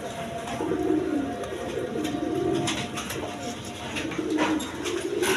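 A female Lotan pigeon coos in repeated soft, throaty phrases close by, with a voice talking faintly underneath.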